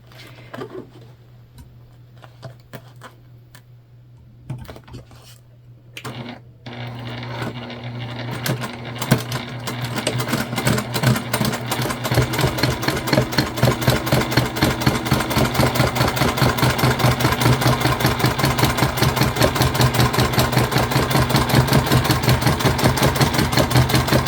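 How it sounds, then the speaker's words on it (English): A sewing machine top stitching a fabric candy bag panel, starting with a few short bursts and then running at a steady, loud, fast mechanical rhythm close up, with no talk. "And we're going to do a top stitch here."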